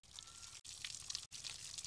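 Dried Bombay duck fish being rinsed by hand in water, the fourth wash, with close splashing and sloshing in three bursts separated by brief silent gaps.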